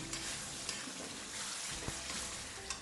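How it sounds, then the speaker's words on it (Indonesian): Ground large red chilies stirred with a little water in a pot while making Makassar-style beef soup, a soft continuous scraping and faint sizzle with a few brief utensil clinks. "Tambahkan sedikit air, lalu aduk sampai tercampur rata."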